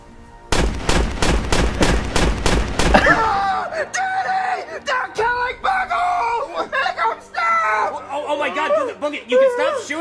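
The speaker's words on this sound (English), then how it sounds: "You can stop shooting." A rapid burst of roughly eight loud gunshots opens a comedy puppet skit, then gives way to several people talking and yelling.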